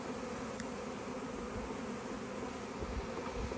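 A swarm of honey bees buzzes outdoors in a steady, dense drone close by, humming without pause and with no voices over it.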